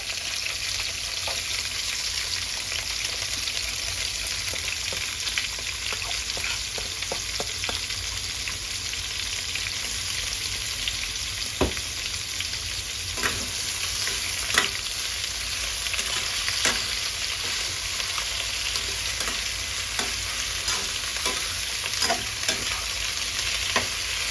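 Japanese cucumber and egg stir-fried in a pan, a steady loud sizzle with the scrape and clatter of stirring throughout, no voices.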